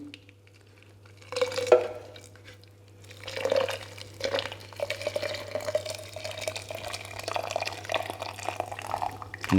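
Water is poured and trickles into a Coopers IPA homebrew mix, with splashing, dripping and gentle stirring over a low steady hum, faint and close.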